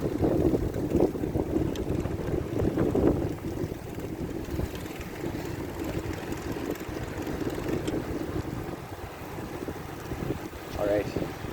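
Heavy wind buffeting the microphone on a snowy November ride through downtown St. John's, Newfoundland, along Water Street, a steady roaring rush with a low rumble beneath it and occasional faint sounds in the background.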